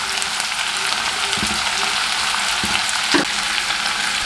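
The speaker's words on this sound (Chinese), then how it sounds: "同样的翻炒几下" Onion and king oyster mushrooms stir-fry in a wok with a steady, close sizzle, broken by a few soft scraping stirs.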